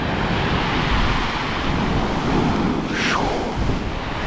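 Storm waves break against a concrete breakwater at Divnomorskoye in a continuous heavy roar, with strong wind buffeting the microphone and no voices.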